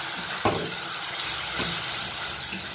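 A splash of water hits chicken curry frying in a pan, giving a steady close sizzle with a few short bursts of bubbling and stirring.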